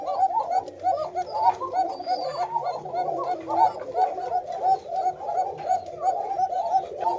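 Red and white Koka pigeons on a farm, cooing continuously in repeated rolling coos, fairly close and moderately loud, with pauses between calls.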